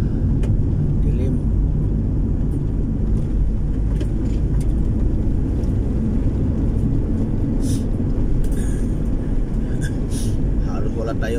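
A car driving at night along a dark provincial road in Negros Oriental, a steady loud engine and road rumble from inside the vehicle, with faint intermittent clicks above it.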